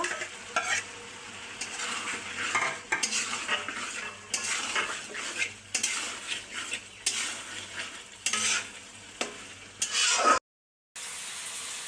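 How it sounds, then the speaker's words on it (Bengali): Stirring fried potatoes with shing fish (stinging catfish) in a pan for a rural Bengali kosha curry, a steady near sizzle with repeated spatula scrapes and clinks against the metal, no voices, cutting to silence briefly near the end. "আর এটা হচ্ছে ভেজে রাখা আলুগুলো দিয়ে দেবো, দিয়ে একটু এর মধ্যে কষিয়ে নেব।"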